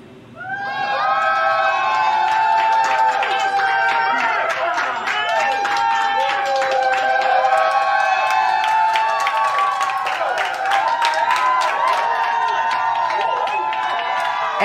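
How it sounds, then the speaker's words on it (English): Doctors and family members at Montreal Children's Hospital cheer loudly and continuously for a space launch crew member, a dense crowd of shouting voices with children's high-pitched yells mixed with scattered clapping. "cheering on mission specialist Mark Pathy are the many doctors and family of the Montreal Children's Hospital"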